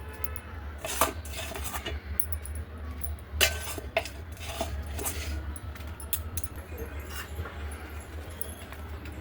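Soft clinks and light scraping of a metal bowl pressing warm sesame and jaggery chikki mixture flat on a ghee-greased plate, scattered taps over a low steady hum, fairly quiet and with no talk.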